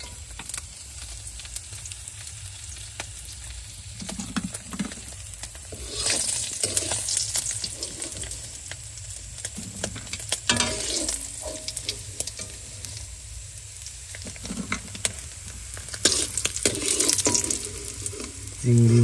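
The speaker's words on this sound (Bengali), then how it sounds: "মাছ ভাজা হয়ে গেছে, এবার লামায় নেবো।" Fish frying in hot oil in a pan, cooked during a trip to the Sundarbans. The oil sizzles steadily for a long stretch, broken by bursts of stirring and scraping that come close and loud at times.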